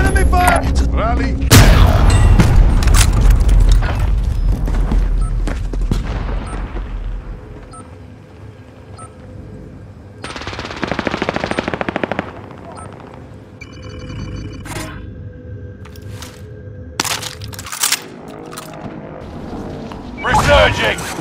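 Gunfire and explosive booms from a Call of Duty: Warzone duos match, loud bursts and rumbling blasts early on, then scattered shots and impacts, with game voice callouts heard over the action.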